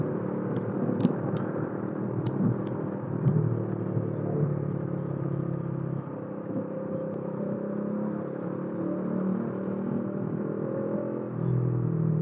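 A Bajaj Dominar 400 motorcycle being ridden in the rain, its engine droning steadily with a low rumble mixed with road and rain noise throughout, close and continuous.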